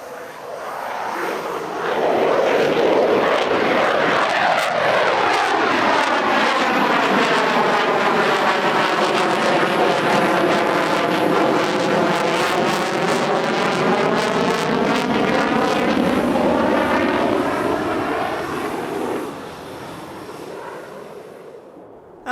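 A US Navy F/A-18 Super Hornet fighter jet flying a dirty roll at an airshow gives a loud, sustained jet roar that swells quickly, holds with a sweeping, shifting tone as it passes, then fades.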